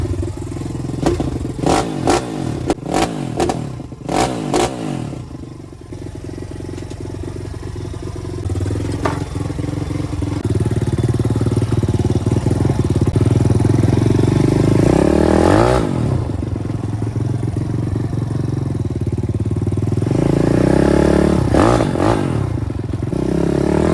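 A two-stroke pit bike engine is started with several sharp revving bursts, then settles into a steady, loud idle as it warms up, with occasional throttle blips and some clattering in between.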